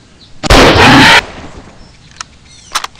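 Gunfire from a mobile hunting shooter game: one loud, close blast with a long burst tail, then a few small clicks and pops, with no talk.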